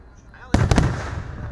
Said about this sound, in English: Fireworks filled the sky Tuesday over the 23-mile Van Dyke corridor during this year's Shelby Township fireworks display at Ford Field.